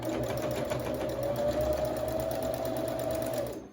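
A sewing machine running a basting stitch along a V-neck, a fast continuous mechanical whir and patter held steady for a few seconds before stopping, close and alone.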